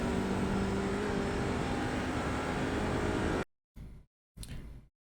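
An Audi RS3 LMS touring car engine at full throttle in iRacing roars loud and steady for over three seconds, then cuts off abruptly, followed by two short bursts, close with no talk.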